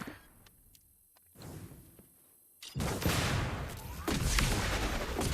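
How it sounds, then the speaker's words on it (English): Super grenades explode in an online shooter game, with a few sharp clicks and a quieter stretch, then heavy booming blasts rolling in loud and dense over the final seconds. "let me just load the super grenades"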